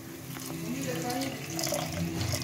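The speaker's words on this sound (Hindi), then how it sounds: "एक स्पून से जरा कम डाली फिर इसमें जरा पानी" Water poured from a tap or vessel into a cooking pot of masala while making fish curry, a steady close splashing trickle lasting about two seconds with faint background noise.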